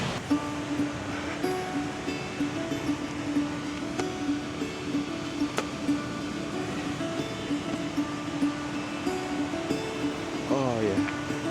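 Massive ocean waves roll onto a beach in Thailand, making a steady, dense wash of surf with continuous hiss and rumble throughout, close and fairly loud, with a faint tonal hum underneath.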